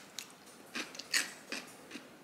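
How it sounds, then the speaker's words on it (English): Several crisp crunches of someone biting and chewing a fresh garden cucumber, about five sharp bites spaced unevenly, close and fairly quiet with no talking. "The cucumber from the garden. Listen to how crunchy it is."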